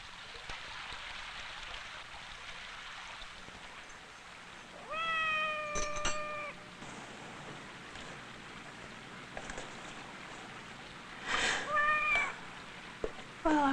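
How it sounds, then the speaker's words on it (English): A stray cat meows twice, drawn-out and plaintive, against a steady wash of rain, each cry clear but not very close. "Must be a stray cat."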